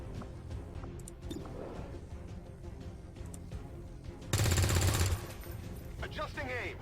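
Rapid automatic gunfire in a video game, a dense burst of about a second standing out over continuous game noise and background action.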